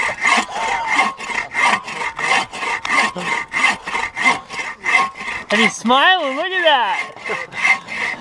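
A hand saw rasps through firewood in a winter camp, with steady back-and-forth strokes about twice a second, loud and close; a voice briefly talks near the start and a whistle-like warbling sound follows near the end.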